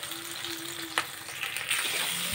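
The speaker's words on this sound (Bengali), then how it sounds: "কেটে রাখা পেঁয়াজগুলো তেলে ছেড়ে দিলাম।" Chopped onions, garlic and capsicum frying in hot oil for chilli soybean, a steady close sizzle with a brief scrape of stirring partway through.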